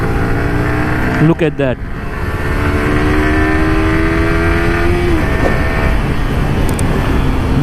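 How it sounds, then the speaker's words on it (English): A Yamaha R15 V3 BS6 155cc motorcycle with a 6-speed gearbox revs loudly while riding, its engine note climbing steadily in pitch through the gear as wind rushes past, with a brief spoken remark early on. "155cc motorcycle which is mated with a 6-speed gearbox"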